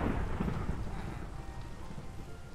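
Thunder during a rainstorm in Minecraft, a deep rolling rumble that starts loud and slowly fades under a steady hiss of rain, close and unbroken, with no talking.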